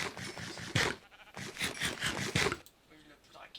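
Sheep in a Minecraft mod, Project SuperHuman, bleat in a series of loud, rapid, raspy bursts close by, with a brief pause and quieter sounds at the end.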